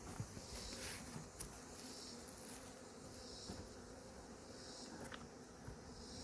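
Honeybees buzz faintly around an open beehive while honey is being handled, a soft continuous drone with occasional closer passes by individual bees.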